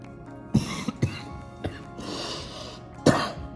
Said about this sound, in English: Okay, I'm coughing